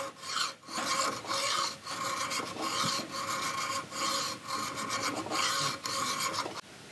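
A safe-edge file rasps steadily across a rifle's dovetail slot on a Traditions St. Louis Hawken build, widening it with close, continuous strokes that run for several seconds alone and stop near the end.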